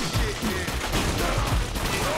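Sustained gunfire from the video game 50 Cent: Bulletproof, a dense, loud barrage of rapid shots filling the whole stretch, with faint voices talking underneath.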